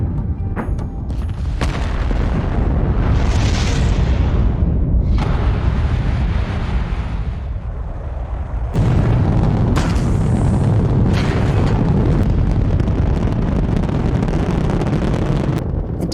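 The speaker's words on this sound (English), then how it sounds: "the engines fire." Rocket engines igniting at launch send out a loud, sustained low roar and deep rumble that swells, with buffeting wind-like noise over about sixteen seconds and no voices.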